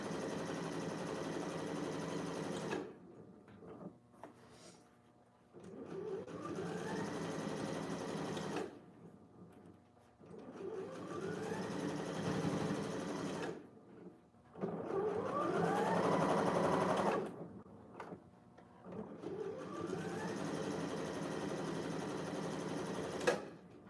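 A sewing machine hems a corset dress in four long runs of steady, close mechanical whirring and stitching, separated by short quiet pauses.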